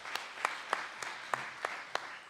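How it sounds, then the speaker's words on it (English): A few scattered claps from a conference audience, about seven sharp single hand claps spaced roughly evenly and fairly quiet, with no talking. "Just a quick show of hands, if you don't mind, or applause. Let's use applause."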